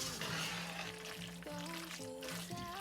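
Lightly charred ingredients sizzle and bubble in a pot as they are mixed together, a steady close frying hiss with soft stirring movement. A faint tonal hum runs underneath.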